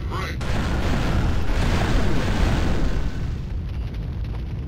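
Sustained loud bolter gunfire from the Warhammer 40k Fire Warrior video game, a dense roaring barrage of shots and blasts that holds steady for about three seconds before easing into a quieter rumbling tail.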